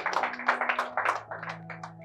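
Audience clapping at a Hindi open mic poetry and storytelling night in Gurugram, a brief burst of several hands clapping fairly close, uneven and thinning out over two seconds.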